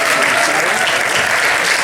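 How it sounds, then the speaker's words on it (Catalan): A loud, dense burst of audience applause welcoming a film director and producer onto a festival stage, steady clapping throughout. "Rebem amb un fort aplaudiment a l'escenari a Dan Aguilar com a director i Miguel Aguiló com a productor."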